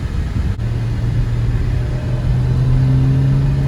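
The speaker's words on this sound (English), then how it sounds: "Sounds like a regular car when you're going normal speeds." A Porsche 718 Cayman S cruising at around 40 mph, its engine a steady low hum with a rising tonal drone and road rumble throughout, sounding like an ordinary car at normal speed.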